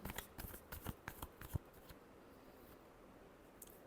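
Tarot cards being shuffled by hand, a rapid run of crisp riffling snaps and flutters close up for about a second and a half, then fading to quiet handling and faint rustle.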